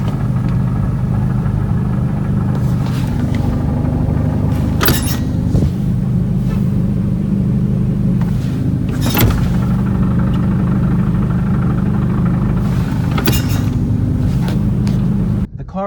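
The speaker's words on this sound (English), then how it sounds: "the throwout bearing is still chattering" A car idling with a chattering clutch throwout bearing, a newly replaced one that still chatters like the old. A steady, close engine drone runs throughout, with a few sharp clicking rattles breaking through.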